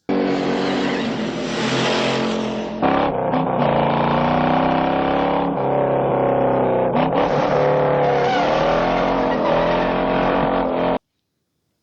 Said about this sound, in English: there's a great car chase in it